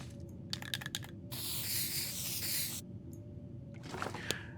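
Spray paint can fired in The Long Dark survival game: one steady hissing spray burst of about a second and a half, fairly close, between short clicky handling sounds, with a faint low background hum throughout.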